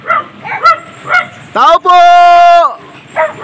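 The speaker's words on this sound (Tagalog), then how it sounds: "Puro aso nandito." Several dogs bark and yelp at a small rural hut, sharp loud barks interspersed with a long howling whine, while a person calls out nearby.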